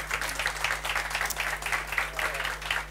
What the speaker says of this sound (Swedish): Han får väl en applåd.